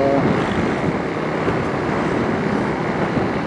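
Strong wind buffets an outdoor external microphone, a steady loud rumbling roar that fills the whole stretch with no gaps, with busy traffic noise blended underneath.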